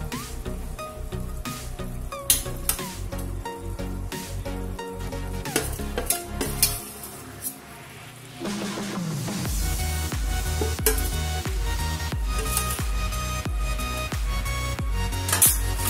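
Veg pulao rice with paneer sizzling and being stirred in a pan, a steady close frying hiss broken by repeated scraping stirs and clinks, continuous throughout with no speech.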